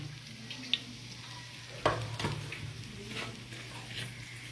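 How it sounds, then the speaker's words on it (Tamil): Mustard seeds spluttering in hot oil, with soft sizzling and a few sharp pops and crackles scattered through a low background hum, quiet and without talk. "கொஞ்சம் கடுகு, கடுகு பொரிஞ்சோடனே உளுத்தம்பருப்பு போடணும்."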